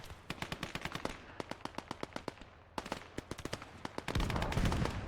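Gunfire crackles in the Gates of Hell PvP war game, rapid sharp reports in two bursts, a heavier boom closing the clip, with no talking.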